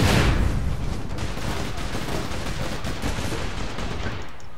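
Rapid automatic gunfire fills the APB Reloaded shootout, a dense, loud burst at the start easing into sustained crackling fire throughout.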